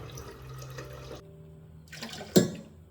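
Water pours steadily into a pressure cooker of lentils for about a second, stops briefly, then a short splashing burst follows, close by.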